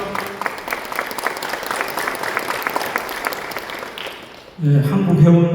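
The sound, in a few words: audience applause welcoming a speaker on stage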